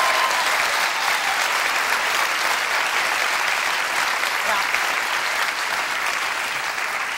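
A studio audience at a late-night talk show applauds steadily, a dense, even wash of clapping filling the room from start to finish without letting up.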